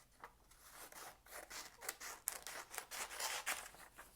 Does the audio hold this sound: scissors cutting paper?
yes